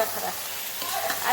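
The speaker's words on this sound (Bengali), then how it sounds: "দিয়ে দিলাম আলু" Potatoes hit a hot pan while chicken biryani cooks, making a brief, close, steady sizzle and frying hiss with no voices.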